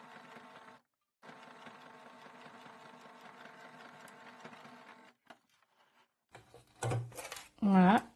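A sewing machine stitching a seam over an overlocked seam on a patch pocket, steady close mechanical whirring for several seconds with a brief pause, then stopping; a voice speaks afterward.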